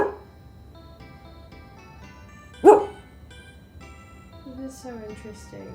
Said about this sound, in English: I was trying to stop the dog from barking